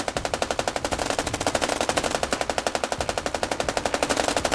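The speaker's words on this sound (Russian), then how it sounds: "Пулемет херачит." Machine gun fire in the game Squad, a long unbroken burst of rapid, evenly spaced shots, close and loud, with no pause across the whole stretch.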